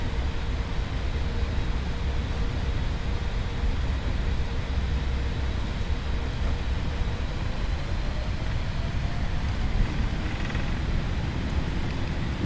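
Jet engines of a Boeing 777-300ER in the FSX flight simulator, just after takeoff from Heathrow: a steady, loud, broadband roar with a low rumble that holds evenly throughout, no voices.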